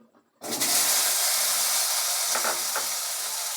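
Loud, steady sizzling of eggplant pieces hitting hot oil, starting abruptly after a brief quiet moment and continuing with a bright crackle throughout.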